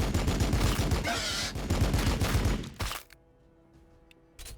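Heavy bolter firing in the Warhammer 40K Battlesector video game, a loud rapid burst of booming shots for about three seconds, then near quiet with a final sharp hit.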